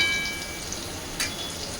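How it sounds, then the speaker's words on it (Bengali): Slices of bitter gourd fry in a kadai, spread out and turned over, giving a soft, steady sizzle with a brief crackling burst near the end. "আমি সব উচ্ছে ভাজলে এরকম একজোটো করে দিই, এরকম করে ভাজবো"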